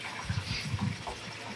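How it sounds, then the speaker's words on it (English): City tap water runs steadily into a brewing setup, a continuous close splashing trickle with a slight gurgling pulse and no voices. "And yes, that's tap water."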